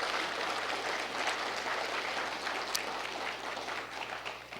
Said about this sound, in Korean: 여러분 맞다고 생각하면 박수 한번 부탁을 합니다